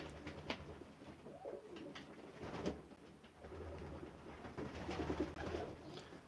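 Pigeons coo steadily by lofts on an allotment plot, a low throaty murmur of several birds close by, with faint background rustle and no talk.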